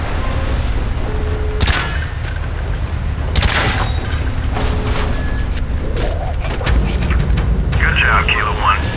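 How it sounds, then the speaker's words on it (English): Gunfire in Call of Duty Black Ops shooting out door hinges: several loud sharp cracks and booms, spaced a second or two apart over a steady rumbling game background with radio voices talking. "Shoot the hinges!"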